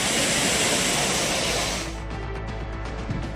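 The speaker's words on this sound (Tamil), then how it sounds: "ஆர்ப்பரித்து கொட்டும் தண்ணீரில் சுற்றுலா பயணிகள் உற்சாகத்துடன் குளித்து மகிழ்ந்தனர்." Roaring waterfalls at Courtallam where tourists bathe, a loud steady rush of falling water filling the first half, then dropping to a quieter, thinner wash.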